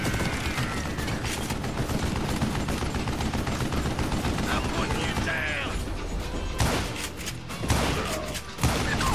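Gunfire in the Call of Juarez Gunslinger video game cracks in rapid, clattering volleys over mechanical clicking and ratcheting. A few sharper shots stand out near the end, and a player's voice comes in at moments.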